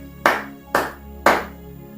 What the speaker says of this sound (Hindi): ताली बजाते हुए जोर से